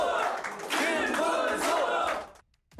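Rally crowd at a regional campaign launch event for local elections, cheering and shouting in a loud, sustained burst of massed voices that swells twice before cutting off abruptly into near silence.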